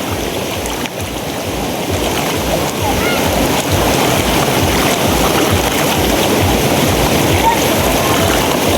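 Clear water flowing down from a mountain rushes in a loud, continuous churning gush close by, with a brief dip near the start and talk faintly mixed in.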